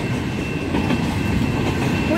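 Union Pacific double stack freight train rolling past close by, a loud continuous rumble with faint rattle of cars bouncing on the rails and no clear individual clacks.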